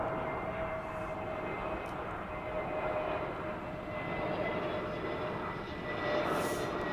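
A Boeing 787 Dreamliner landing at London Heathrow gives a faint, distant jet rumble that holds steady and swells slightly toward the end, with no voices.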